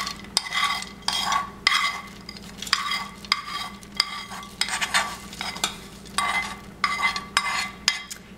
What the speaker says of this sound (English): I'm gonna take the spoon and pry them loose.